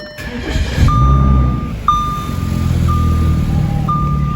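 A truck engine fitted with mufflers rumbles steadily at idle with a deep exhaust note, while a high electronic beep tone sounds intermittently over it.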